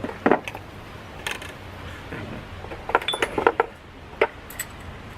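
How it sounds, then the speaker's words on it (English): Metal cocktail strainer clinking against an old-fashioned glass while making a Sazerac, with a few light, sharp metallic taps scattered through the clip, close and fairly quiet, and no talking. "I'm going to take my strainer"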